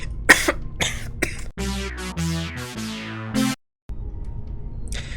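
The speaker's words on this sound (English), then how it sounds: "I had to have a coughing fit here for a second." A person has a coughing fit, several sharp coughs close to the microphone, then a stretch of stepped, harmonic tones that sound more like game music than coughing, ending in brief silence.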